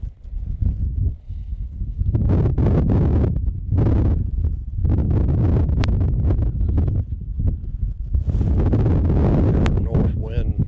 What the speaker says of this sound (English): North wind